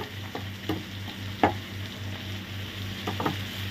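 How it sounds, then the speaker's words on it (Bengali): Tomato puree is stirred into masala mooli (radish) frying in a pan. A steady close sizzle runs throughout, broken by sharp intermittent scrapes and taps of the spoon against the pan. "এখন ভালোভাবে নেড়ে টেড়ে দিচ্ছি।"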